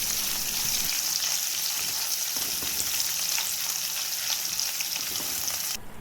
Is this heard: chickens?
no